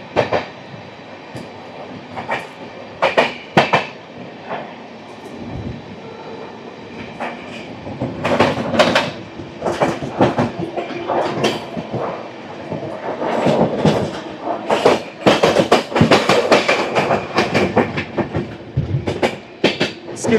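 The Taj Express passes close by: a loud, rhythmic clickety-clack of wheels over rail joints, with the wagons rumbling and surging in repeated bursts that swell toward the end.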